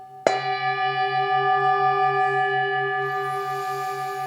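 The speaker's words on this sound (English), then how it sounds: "I'm going to invite the bell." A mindfulness bell is struck once at the close of a meditation, and its clear tone rings out and decays slowly for several seconds in a quiet room.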